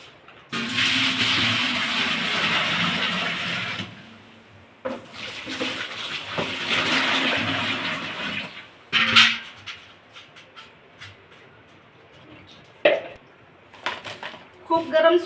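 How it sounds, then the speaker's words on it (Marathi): Hot water poured from a pan into a vessel for soaking toor dal in a home kitchen, a steady splashing pour in two long stretches followed by clinks of metal pots and utensils. "त्या भांड्यात गरम पाणी टाकून"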